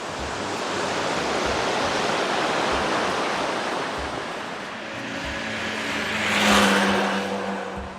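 A river near Mostar, Bosnia and Herzegovina, flows in a steady broadband roar, with a passing vehicle swelling briefly near the end.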